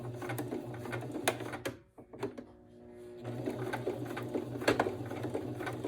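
A sewing machine back stitches across the zipper of an outdoor pillow case, whirring in close, quiet runs broken by a short pause midway, with faint clicks and handling noises between stitching bursts.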